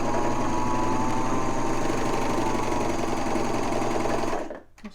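A serger stitches a seam in knit fabric, its steady, loud, fast mechanical whirring running unbroken for about four and a half seconds before cutting off abruptly, with no talking.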